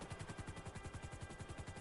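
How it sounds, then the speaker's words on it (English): A helicopter in the video game GTA 5 gives a fast, regular rotor chop, a rhythmic thumping pulse that is quiet and steady throughout. "this is a fast helicopter"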